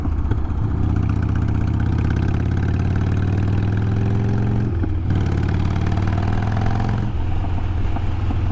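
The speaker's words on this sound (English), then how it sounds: "I want to get out, ride this bike since I put them new pipes on." Motorcycle fitted with new exhaust pipes, a loud steady engine rumble close by, with throttle changes and shifts in pitch around the middle and later, no talking.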